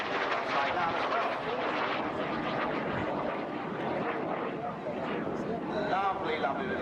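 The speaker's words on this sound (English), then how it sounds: "Lovely, lovely little machine to fly. Very maneuverable, very quick." A small, highly maneuverable aerobatic plane performs at the Dunsfold Wings and Wheels air show in 2014, its engine droning and shifting in pitch as it loops overhead, with a commentator speaking over it throughout.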